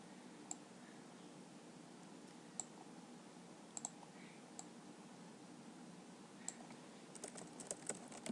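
Keys on a computer keyboard tap in sparse, quiet clicks over a steady hiss, then pick up into a quicker cluster of keystrokes toward the end.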